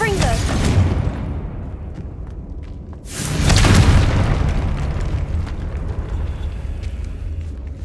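A loud booming blast from the Confringo spell in Hogwarts Legacy, a heavy burst that fades, then a second bigger explosion with a rumbling tail, amid game sounds.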